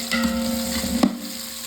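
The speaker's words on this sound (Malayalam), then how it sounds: "ചെറുതാക്കി അരിഞ്ഞത് നമുക്കിതൊന്ന് ഇളക്കി കൊടുക്കാം. അങ്ങനെ നമ്മുടെ സവോള ഇട്ടു റെഡിയായി വരുന്നു." Four finely chopped onions sizzle in a pan while being stirred for a vegetable pulao, a steady close frying hiss with a faint hum and one sharp scrape of the spoon, no voices.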